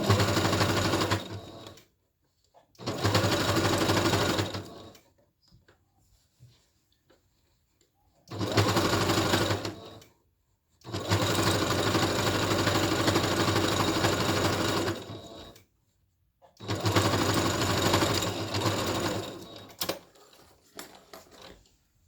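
Sewing machine stitching a zipper onto fabric in three long bursts with short pauses between, a steady close mechanical whirr that starts and stops.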